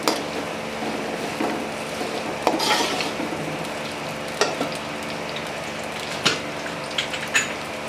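Onions sizzling in hot ghee in a pan, a steady close frying hiss broken by several sharp metallic clinks and scrapes as a spoon stirs them.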